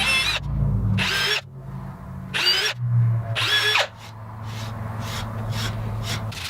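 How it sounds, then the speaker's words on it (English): A power drill drilling a small pilot hole in wood whines in several short bursts, revving up and stopping repeatedly, with a faint low hum in the background between bursts. "Now all we need to do is drill a little pilot hole for the screw."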